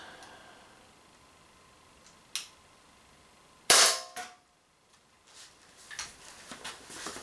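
An Umarex Walther PPQ M2 air pistol fires at a tin can, giving one sharp, loud crack with a short ringing tail after a faint earlier pop, followed by light clicks and handling noises at close range.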